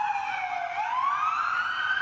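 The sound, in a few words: ambulance siren in Beirut after pager attack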